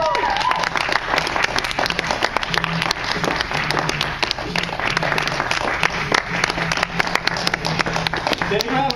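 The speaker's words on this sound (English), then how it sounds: "Big round of applause!" Audience applause after a speaker is introduced at a talk on body and weight loss, a steady wash of clapping that runs the full length, with a voice rising over it near the start.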